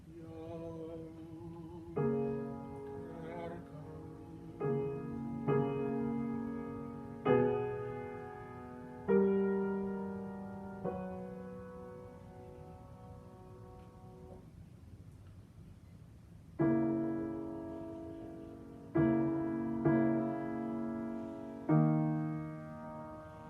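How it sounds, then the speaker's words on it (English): Trombones play alone in a passage from Brahms' Requiem, a slow series of sustained, swelling chords with a short pause midway, fairly soft and resonant. "And the trombones alone would sound like this."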